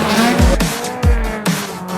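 Race cars at a motor race at Wallerfield, two quick bursts of engine roar with tire squeal as cars sweep past nearby.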